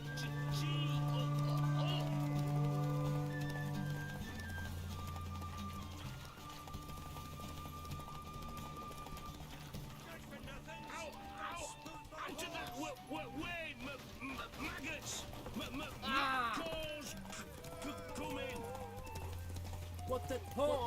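A horse gallops during a race in The Witcher 3, hooves drumming in a rapid rhythm beneath game music, with someone talking over much of it.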